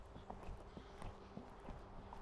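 A horse's hooves strike in a quick, even rhythm while the horse is readied to gallop. The footfalls sound close but fairly faint, and there is no talking.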